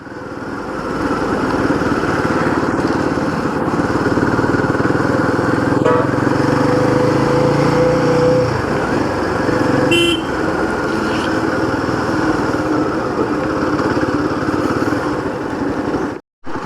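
A motorcycle carrying five riders on a road in Uttarakhand, its engine droning loudly and steadily nearby with a short horn toot partway through, then cutting off abruptly at the end.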